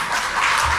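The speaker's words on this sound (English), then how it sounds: "a round of applause, ladies and gentlemen" Applause from the crowd at a 90th and 60th birthday party, a dense, steady patter of many clapping hands that holds throughout, fairly loud and close, with no talk over it.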